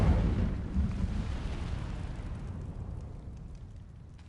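Incendio fire spell blast in Hogwarts Legacy: a deep, rumbling burst that starts loud and slowly fades into a low roar over several seconds, with no talking.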